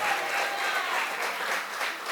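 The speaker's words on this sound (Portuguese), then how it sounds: "Vamos dar uma salva de palmas para ele." Steady applause from a church congregation, a continuous wash of clapping hands at moderate volume with no voices standing out.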